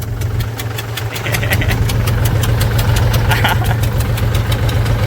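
A low, steady tractor engine idles throughout with a rhythmic thumping knock, fairly loud and close, with faint background chatter.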